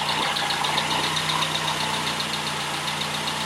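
A Triumph Herald 13/60 engine fitted with refreshed SU HS2 carburettors idles steadily and close by, a continuous mid-pitched rumble with a faint rhythmic knock and a constant hiss, with no voices over it.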